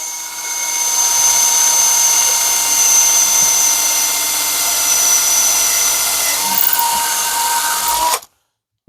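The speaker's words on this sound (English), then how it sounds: "I think this is a 1/8" drill bit. I'll just drill one right down the middle." A power drill with a 1/8 inch bit bores a hole, a steady high whine running loud and close for about eight seconds before stopping abruptly.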